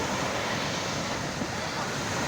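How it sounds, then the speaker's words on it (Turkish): Rough sea waves crash and roll steadily onto a beach in a continuous, loud wash, with wind buffeting the microphone throughout. "Şu dalgayı görüyor musun anneciğim? Ne biçim atıyor?"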